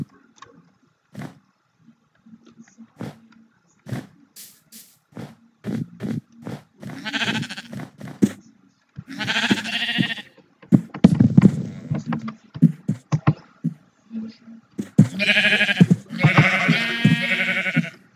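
Sheep bleat in Minecraft, with scattered clicks and footsteps followed by several drawn-out, wavering bleats, some overlapping, that come in short bursts with quiet gaps between them.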